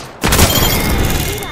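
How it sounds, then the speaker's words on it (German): Gunfire in the Apex Legends video game erupts suddenly after a brief quiet moment and continues as a dense, loud burst of shots with booming impacts and a voice talking over it. "Werde beschossen!"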